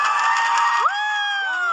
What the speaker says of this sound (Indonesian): FPL Arena minta tepuk tangannya dong.